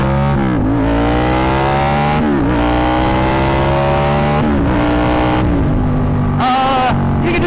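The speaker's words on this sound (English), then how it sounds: "the CP2 motor has got a lot more power than a lot of people think it does" A Yamaha FZ07 motorcycle's CP2 parallel-twin engine revs hard, climbing through the gears with repeated rising pulls and brief dips at each shift, loud and close with steady wind roar.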